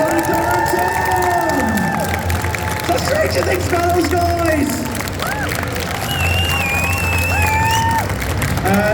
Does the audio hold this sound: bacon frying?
no